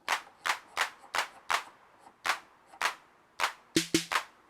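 Roland TR-08 drum machine clap with a lengthened decay, struck about a dozen times in a loose rhythm, each hit a sharp burst trailing off into a noisy tail, with a quick double hit near the end.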